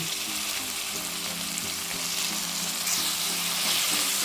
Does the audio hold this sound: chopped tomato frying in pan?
yes